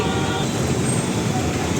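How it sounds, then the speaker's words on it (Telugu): Loud, dense urban road traffic roars continuously in Hyderabad, a steady wash of engines and tyre noise from close by. "ట్రాఫిక్"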